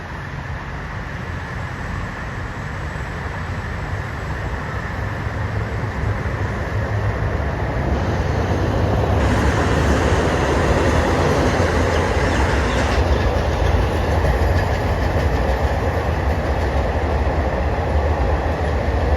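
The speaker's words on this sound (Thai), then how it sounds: "ขบวนรถเร็วที่ 169" A rapid passenger train, on an elevated track, rolls past close by, a steady loud rumble and clatter of wheels that builds and holds for the whole stretch.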